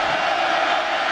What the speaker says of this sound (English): Crowd bringing down some noise now.